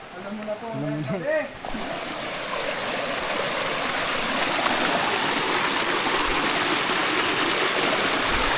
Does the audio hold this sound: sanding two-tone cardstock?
no